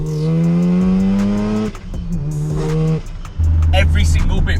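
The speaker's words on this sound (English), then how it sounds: "sound of a burbling rotary with a whacking great turbo on it with a screamer pipe" A turbocharged Mazda RX-7 FD rotary engine with a big turbo and screamer pipe, about 410 bhp, burbles and revs up loudly, pitch climbing with each gear before dropping, close and dominating the sound.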